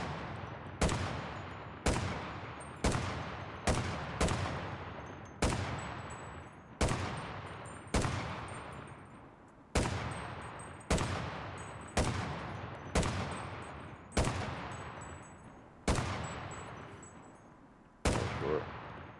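Single rifle shots in the Enlisted video game, a sniper rifle fired in semi-auto, crack out one at a time at steady intervals of roughly a second, each loud report decaying in a short echoing tail, with no talk.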